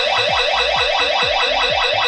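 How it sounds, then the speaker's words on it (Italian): Loud warbling electronic siren from a HomeIO smart home alarm system, rising and falling in rapid repeated sweeps for about two seconds before it cuts off abruptly. "Come avete sentito, questo è il rumore della sirena,"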